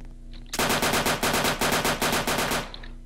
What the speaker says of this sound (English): I hit him with a bunch of bullets